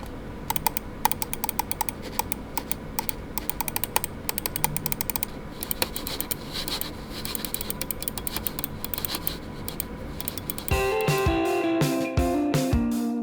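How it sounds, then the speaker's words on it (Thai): Rapid, dense clicking close up from a Logitech G Pro X Superlight 2 wireless mouse, many crisp clicks in quick succession, followed by a few slower, louder clicks. "เสียงคลิกจากเมาส์ตัวนี้มีความดัง ในระดับหนึ่งเลย"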